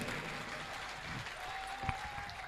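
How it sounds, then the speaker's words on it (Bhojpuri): An audience claps at a live stage music show, a steady dense patter of applause held at a moderate level for the whole stretch, with a faint tonal hum underneath. "जब तक पूरे श्रोता एक साथ ताली बजा के ना कहें"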